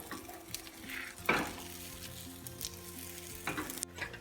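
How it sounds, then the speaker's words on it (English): Beaten eggs for a bacon cheese omelette sizzle steadily in a hot pan, with a brief louder crackle and a clink of pan or utensil partway through. "And then put in your beat eggs."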